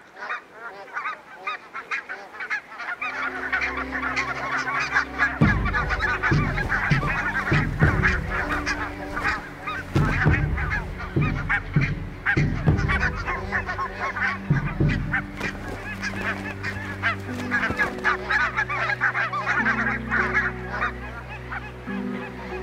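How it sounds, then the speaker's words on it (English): A dense, noisy chorus of barnacle geese honking nonstop on a crowded breeding island, many birds calling over one another at close range, loud and chaotic throughout. "Barnacle geese only use the small island as a breeding ground, not as a foraging ground."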